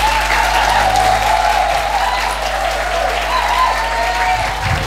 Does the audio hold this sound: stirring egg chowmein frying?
no